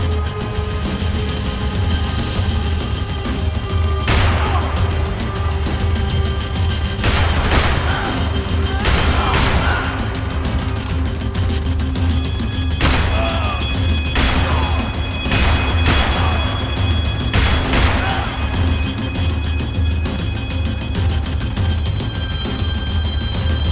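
Gunfire in the video game Max Payne 3: a series of loud, sharp shots and bursts at irregular intervals over a steady rumbling, engine-like background.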